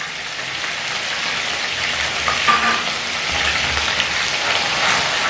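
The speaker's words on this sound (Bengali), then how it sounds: "লো ফ্লেমে আদা ভালো করে একটু ভেজে নিচ্ছি।" Ginger paste fries in oil on a low flame with salt added, giving a steady, close sizzle and crackle like light rain, with faint stirring and no voices.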